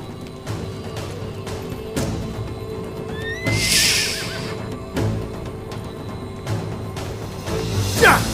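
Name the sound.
horse neighing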